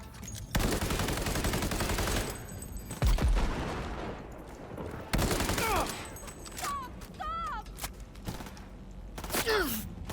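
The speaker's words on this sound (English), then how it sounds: "Send a bunch of bullets into his area." Heavy gunfire in a shooter video game: a loud, dense rattle of automatic bursts cut by sharp pauses, with whistling, sweeping tones and thuds between volleys, while a voice is heard briefly in the mix.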